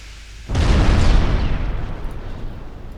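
After a brief quiet moment, torpedoes burst against a light cruiser in a naval warfare game with one loud, heavy explosion, and the rumbling boom slowly decays over the following seconds.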